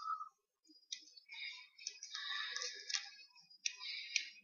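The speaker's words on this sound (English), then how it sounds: "I'm just going to cut this off." Scissors snipping through a strip of felt fabric while trimming a no-sew felt bag, a run of close, crisp clicking cuts in short bursts with brief pauses, heard alone.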